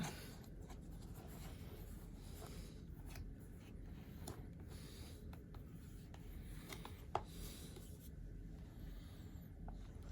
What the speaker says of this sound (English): Just kind of squeegee that out.